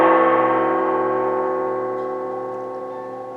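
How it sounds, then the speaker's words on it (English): A struck gong rings out in a long, sustained shimmering tone that slowly fades, heard alone and fairly loud. "Glenn, would you please make the vibration sound of the gong?"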